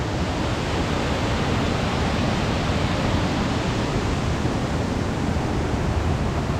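Waterfall at Chet Khot in Saraburi province during the rainy season, a steady, dense roar of falling water that stays loud and unbroken throughout, with no voices.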